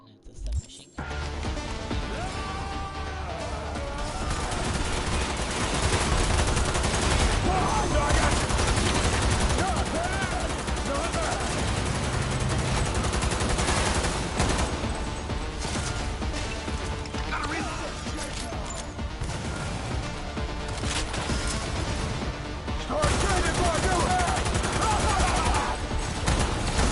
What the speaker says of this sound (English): I did, and it's a submachine gun.